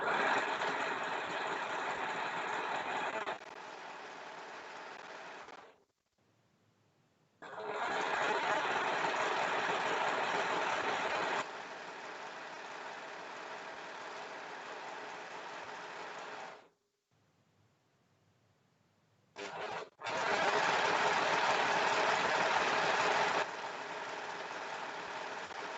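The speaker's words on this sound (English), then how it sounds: "Overlocker." An overlocker sewing machine runs in long steady bursts, a loud close whirring drone that stops and restarts several times with short silent gaps between stretches of stitching.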